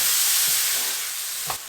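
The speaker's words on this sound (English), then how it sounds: "So I'm going to throw in the tomatoes that we have chopped up and give that a stir." Chopped tomatoes are stirred into okra and onions frying in a pan, giving a steady close sizzle and hiss with a couple of soft scraping stirs near the end.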